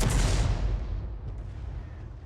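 A 105 leFH18B2 artillery gun fires in the World of Tanks video game, a heavy booming shot whose rumbling tail fades away over a couple of seconds.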